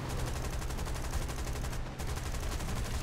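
Aircraft machine gun fire in War Thunder, with rapid, sustained bursts rattling on loudly and steadily, barely pausing near the two-second mark.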